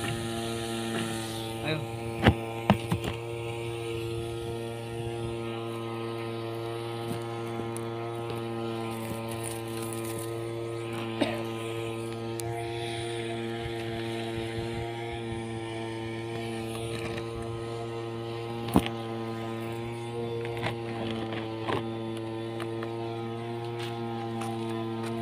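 A starter spins up the engine of an F3R pylon racing model plane, a loud steady droning hum with strong layered tones and occasional sharp clicks, and a brief spoken word near the start.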